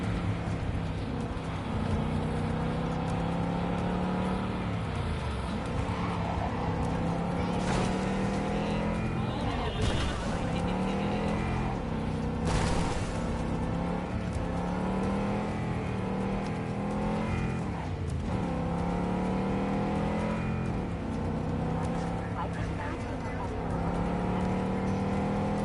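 A car engine runs continuously while driving through Cyberpunk 2077, a steady hum rising and dipping with speed, joined by brief bumps and whooshes, with speech heard over it.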